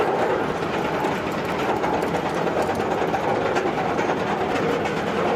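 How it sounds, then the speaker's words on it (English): Rougarou, a B&M floorless roller coaster at Cedar Point, rumbles along its track in a steady, loud, continuous roar with faint rattling, close by. "this is Rougarou. This is a B&M Flawless here at Cedar Point"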